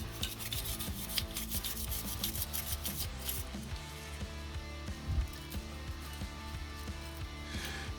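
Brisk, rhythmic rubbing and scraping on M17 pistol parts as carbon is scrubbed off, close and repetitive strokes, quick at first and then slower and lighter.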